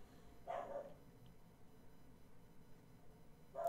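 A dog in the video game Fire Emblem Three Houses gives two short, faint barks, one early and one near the end, separated by quiet background.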